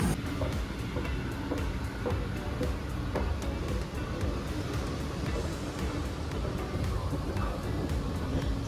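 Steady low rumble and rattling of a Bangkok metro train in motion, continuous throughout, with faint background chatter.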